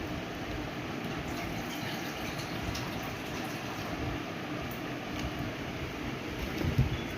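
A continuous rush of water mixed with rice water and onion water pours onto an orchid, its steady splashing wash holding at an even level throughout.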